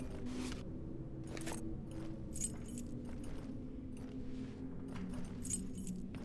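Keys jangling as they are picked up in a video game, a series of metallic clinks and rattles repeating irregularly across several seconds over a low background rumble.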